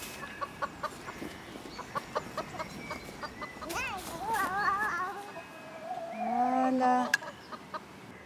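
Hens clucking in a chicken coop, short repeated clucks and rising squawky calls nearby, moderately loud with soft movement noise and quiet voices in the background.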